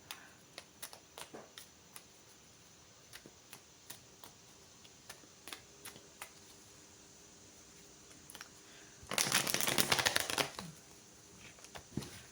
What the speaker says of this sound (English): There's a lot of shuffling going on here.